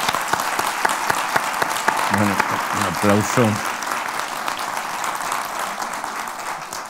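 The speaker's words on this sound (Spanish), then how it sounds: "yo quiero hoy que recibamos con un aplauso a Gonzalo Suárez" An audience at a conversation event at a foundation applauds to welcome Gonzalo Suárez, steady crowd clapping throughout while someone speaks briefly over it midway.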